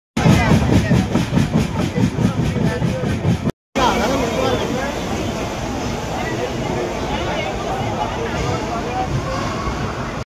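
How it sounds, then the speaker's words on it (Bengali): The Dhauli Express passenger train pulls into Bhubaneswar station with a steady rolling rumble and rhythmic clatter under a constant hum of crowd chatter, then a brief cut before the busy rumble resumes. "আমাদের ট্রেন এখন ভুবনেশ্বরে ঢুকছে"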